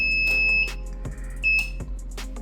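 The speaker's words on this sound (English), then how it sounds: "As soon as the relay opens inside, we trigger the alarm" An alarm panel triggered by a relay emits high, thin electronic beeps, two sustained tones with short pauses, over a constant low electrical hum and a few clicks.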